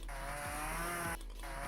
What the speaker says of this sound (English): That's what it sounds like a normal chainsaw